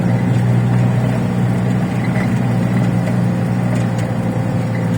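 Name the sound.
truck driving on road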